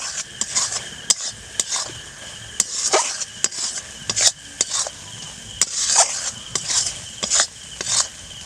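Fried melon seeds being stirred into a semolina mixture in a pan for motichur laddu, a brisk rhythm of spoon scrapes and clinks against the pan over a soft, light sizzle.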